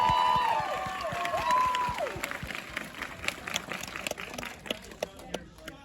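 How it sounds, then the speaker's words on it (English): A crowd at a live Sonic the Hedgehog 2 cast Q&A in Burbank breaks into applause and cheering as a musical tone fades out, the dense clapping then thinning into scattered claps. "Give yourselves a round of applause."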